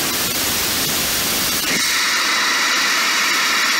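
A magnetohydrodynamic engine test firing with the seeding unit running at 40 psi produces a loud, steady broadband rushing roar like hissing static that shifts abruptly partway through and continues at a thinner, higher tone.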